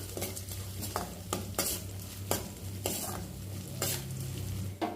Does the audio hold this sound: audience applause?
no